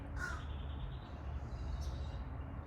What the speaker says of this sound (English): Oh my God, look, more crows.